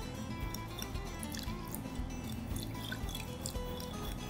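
Warm water trickling and dripping steadily into a bowl of tahini, with faint soft stirring, continuous and close.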